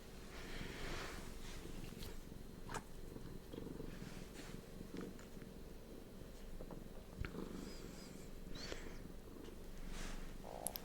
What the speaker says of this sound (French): c'est les seuls bruits de bouche que vous entendrez sur mon live, c'est les bruits du chat